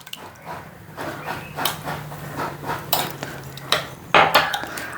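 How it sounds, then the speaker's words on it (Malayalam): Curd is mixed in a bowl with chopped fried vegetable crisps, producing irregular wet stirring, scraping and light clinking of utensil against the bowl, fairly close and with no talk. "ഒന്ന് നന്നായിട്ട് മിക്സ് ചെയ്യാം."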